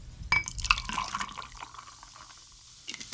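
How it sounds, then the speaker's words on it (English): Club soda is poured from a bottle into a Cranberry Collins cocktail glass, a short close fizzing splash that fades to soft bubbling. "Now what we'll do is top this with our club soda."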